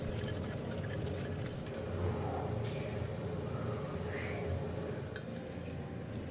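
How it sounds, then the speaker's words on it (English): Shredded coconut and dried red chillies sauté in a pan, a quiet steady sizzle with occasional soft clinks and scrapes of a spoon against the metal. "I'll saute this until the coconut turns to a light brown color."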